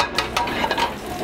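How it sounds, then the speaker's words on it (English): Butter and olive oil sizzling in a very hot pan, a steady close crackling hiss with a couple of brief stirring scrapes, and no voices. "we're gonna use a real hot pan once again. A little bit of olive oil. Start it off with a little bit of butter."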